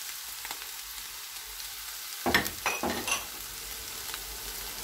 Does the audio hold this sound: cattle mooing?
no